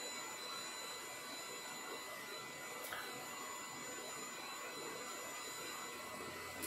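A hair dryer blows steadily with a constant airy whoosh and faint motor hum. It runs unchanged throughout, with no talking.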